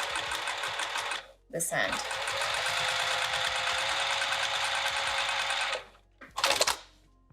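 A sewing machine top-stitches along a pressed bag seam with piping, running in a steady loud whir for several seconds, pausing briefly, then a short final burst with a brief spoken remark near the end.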